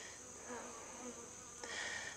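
Honey bees in an open hive, a frame full of eggs and larvae being inspected during cold-climate wintering, make a steady, soft, close buzzing hum that swells slightly near the end.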